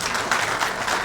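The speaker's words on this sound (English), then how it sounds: "Now, you should clap for that." A crowd at a sports hall of fame press conference gives a brief, lively burst of applause at mid distance.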